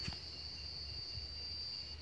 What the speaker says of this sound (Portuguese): Olha o barulho das cigarras.